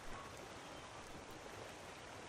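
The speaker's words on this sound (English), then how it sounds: "as you can see, it's raining" Rain falling in the video game Skyrim, a steady soft hiss of drops with no breaks, fairly faint and alone.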